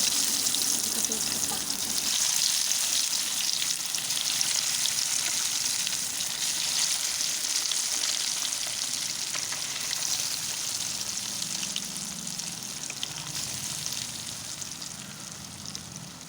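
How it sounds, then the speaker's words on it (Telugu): Village-style fried fish pieces sizzle in hot oil, a dense, continuous crackling hiss heard up close that holds steady and eases slightly toward the end. "చేప ముక్కలు అయితే ఇప్పుడు ఫ్రై అయిపోయినాయి మంచి గోల్డెన్ కలర్ వచ్చేసినాయి"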